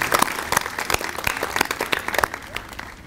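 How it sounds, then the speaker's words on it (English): A round of applause for city and county officials at a science center ribbon cutting, many hands clapping together with sharp individual claps standing out in a fairly close, steady burst. "If we could offer a round of applause for our city officials and county officials"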